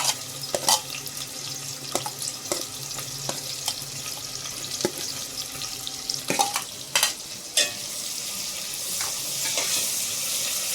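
Sliced onions drop into hot oil for a large-batch chicken biryani, producing a continuous crackling sizzle broken by sharp clinks and scrapes of a spoon against the pot, with no voices.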